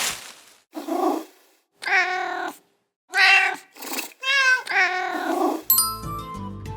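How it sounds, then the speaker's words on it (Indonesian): Several domestic cat meows and drawn-out caterwauling cries come in separate bursts, close and fairly loud, before a short burst of bright musical tones at the end. "Benar, itu seekor kucing."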